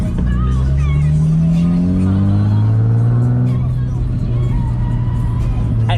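A drift car at a US Drift Circuit event revs hard to pop its tires, engine pitch climbing and holding in a loud sustained roar, with crowd babble and voices mixed in.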